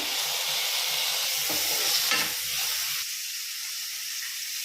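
Chopped tomatoes and vegetables sizzle and hiss in a pan while cooking for masala oats, a steady bright frying sound with occasional stirring scrapes, close up, that quietens toward the end.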